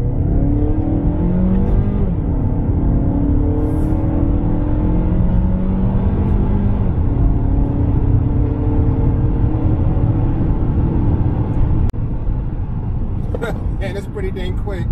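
A 2021 Mazda3 sedan with a 2.5-liter engine drives with a steady engine hum and road noise, rising and falling as it accelerates through the gears, with a person talking over it.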